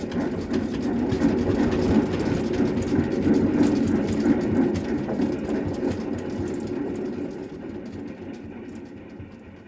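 A steady, rumbling train engine chugs with rhythmic mechanical clatter, loud at first and gradually fading toward the end.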